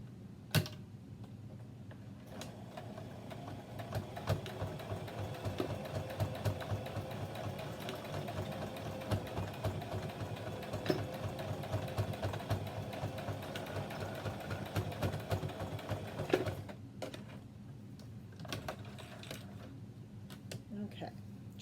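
A domestic sewing machine stitches doubled elastic onto fabric for a water-bottle strap, a rapid close mechanical chatter running for about fifteen seconds before stopping, with a few clicks and handling noises at the end.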